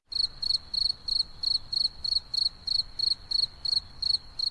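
Crickets chirp in a steady, evenly spaced pulse of bright trilling bursts, loud and close, over a quiet background with no voices.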